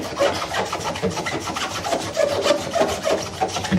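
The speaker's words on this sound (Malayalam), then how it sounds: "ഇടയ്ക്കിടയ്ക്ക് നമുക്ക് ഇത് ഡിപ്പ് ചെയ്ത് കൊടുത്ത് ശരിക്ക് ഇതുപോലെ ഒന്ന് ഉരയ്ക്കുക." The inside drum of a washing machine is scrubbed by hand with a dipped brush, making steady, close, rhythmic rubbing strokes that continue without pause.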